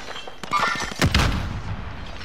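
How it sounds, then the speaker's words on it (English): In a multiplayer shooter game, a sniper shot rings out amid other gunfire: scattered sharp cracks, then a heavy booming report with a rumbling tail, set against busy battlefield noise. "Sniped at. There's a sniper over here."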